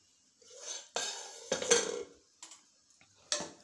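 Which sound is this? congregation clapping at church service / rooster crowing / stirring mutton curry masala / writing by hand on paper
stirring mutton curry masala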